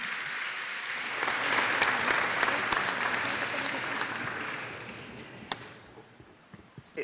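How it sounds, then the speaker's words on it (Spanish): Applause from the audience at a forum held in a congress hall, a sustained crowd clatter that rises, stays steady, then thins out to a few scattered claps at the end. "Vamos a recibirles con fuertes aplausos a todos los integrantes de esta primera mesa"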